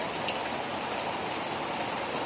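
Heavy rain from Typhoon Crising pours in a steady, dense hiss with no letup, an even wash of falling water filling the whole scene.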